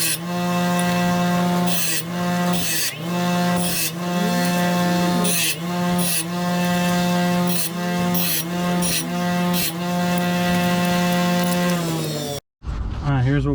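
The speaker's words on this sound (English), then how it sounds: "Now I'm going to deburr this. There's a little bit of lip sticking out here." A power tool deburrs the lip of a steel seat bracket while Subaru BRZ/Scion FR-S seats are fitted to a 2005-2010 Scion tC. It gives a steady, loud, close mechanical whine with strong harmonics and short rhythmic grinding bursts. It runs about twelve seconds and then stops abruptly.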